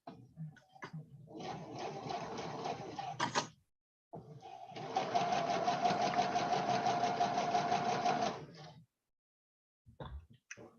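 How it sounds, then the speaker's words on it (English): A sewing machine stitches tiny three-quarter-inch quilt fabric pieces in two rapid bursts of close mechanical whirring, the second longer, each stopping abruptly, with brief quiet between. "I hope my sewing machine don't eat my little tiny pieces of fabric here"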